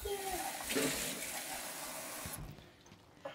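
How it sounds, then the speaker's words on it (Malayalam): Water pours into a jug of homemade lemonade, a soft, close gush lasting a couple of seconds. Quieter splashing and handling noise follow as the pour eases off. "കുറച്ചുകൂടെ വെള്ളം ഒഴിക്കാം."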